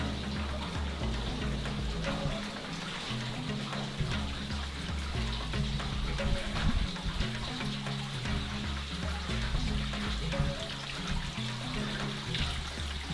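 Hot spring water trickling and splashing inside a rocky cave in Gold Strike Canyon near the Colorado River, a steady close gurgle and patter that continues unbroken.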